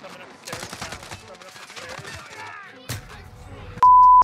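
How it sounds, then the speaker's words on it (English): Gunfire in Call of Duty Warzone during a Vanguard event Resurgence match, a scatter of sharp shots and quick bursts under in-game noise, ending with a loud electronic beep. "I'm getting shot in my back again."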